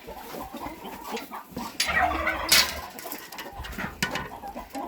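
Hungry hens cluck softly and peck while they eat, with scattered close clucks, rustling and small bumps from the feed.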